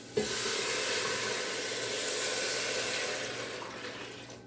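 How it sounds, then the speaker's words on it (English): Smoked turkey broth is poured into a hot soup pot, giving a close, steady rush of liquid with a faint sizzle that fades toward the end. "So now we add the broth. So here's my 4 cups."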